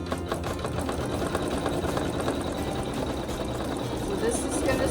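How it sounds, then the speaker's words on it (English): A sewing machine quilting a fabric block runs continuously at a fast, even stitching rhythm, close and steady for the whole clip with no talk over it. "I can just hit start and get sewing."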